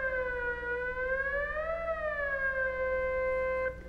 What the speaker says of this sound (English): We can listen to the output here, and we can control the frequency manually with the knob.